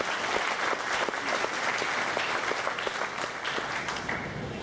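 A large audience at the 2013 Polka Hall of Fame induction ceremony gives a dense, sustained round of applause, many hands clapping together at a steady, fairly close level throughout.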